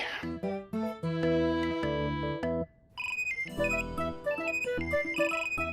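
A mobile phone ringtone plays a bright electronic melody of repeated tones, pausing briefly before the tune starts again, inside a shop.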